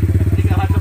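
A motorcycle engine running close by at a steady, fast, even putter, loud and rhythmic with a faint higher whine over it.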